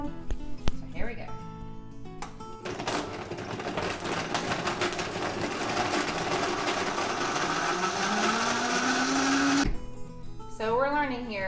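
A Vitamix E320 blender crushing ice cubes, its loud motor roar rising steadily and grinding for several seconds before cutting off abruptly, with a voice speaking briefly before and after.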